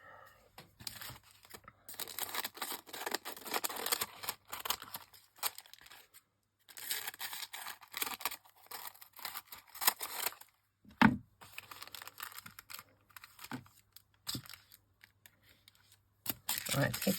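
Scissors cut down a sheet of embossed paper in bursts of crisp snipping and rustling, interrupted by short pauses, fairly close and quiet.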